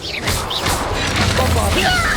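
A Confringo spell blast in Hogwarts Legacy, a loud crashing burst with whooshing tails over a continuous rumble of combat, while a voice talks over it.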